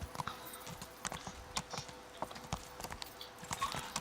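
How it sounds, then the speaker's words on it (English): Horse hooves clip-clop in the medieval video game Kingdom Come Deliverance, an uneven run of moderate hoof strikes on ground at mid distance, with no talking. "This is my horse."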